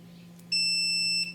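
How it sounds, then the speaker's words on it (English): A multimeter's continuity beep sounds during a bench test of the stator from a 2004–2005 Honda TRX450R, one steady high electronic tone lasting under a second over a low background hum. "Multimeter set to our sound beep. For this one, we should get a beep between all three."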